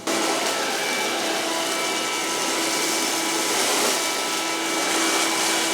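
A Bosch Serie 2 Readyy'y 16V cordless vacuum cleaner runs steadily with a loud, constant motor whine and airflow hiss, with no talking.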